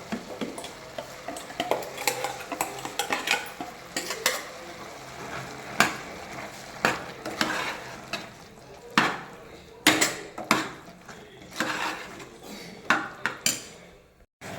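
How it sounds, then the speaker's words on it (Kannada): Ground masala being stirred into hot beans and vegetables for an avarekalu and vegetable sambar, a spoon scraping and clinking against the pot in irregular bursts, with faint frying underneath and no talk. "ಈಗ ಇದಕ್ಕೆ ನಾವು ರುಬ್ಬಿಟ್ಕೊಂಡಿರೋ ಅಂಥ ಮಸಾಲೆನ ಹಾಕೊಳ್ಳೋಣ."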